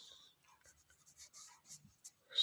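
Chalk or marker writing on a board during a grammar lesson, quick faint scratchy strokes in short bursts, close and quiet with no voice over it.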